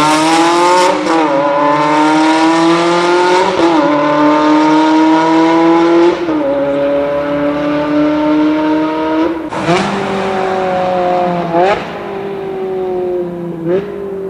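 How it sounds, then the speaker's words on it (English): A Ferrari 360 Challenge Stradale V8 howls loudly and close, climbing through the revs in several rising pulls, each cut short by a sharp shift or lift before surging again. "That is, of course, the amazing, unique sound of the Ferrari 360 Challenge Stradale."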